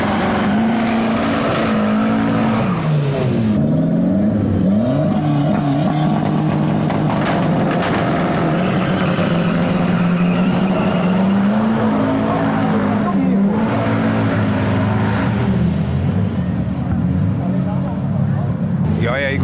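Race cars revving and accelerating during drag racing practice at a strip, loud engine notes rising and falling through gear changes, with a commentator talking over the roar throughout.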